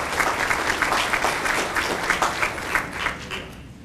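An audience gives a round of applause at a lecture event, steady clapping from many hands filling the room and slowly fading out near the end.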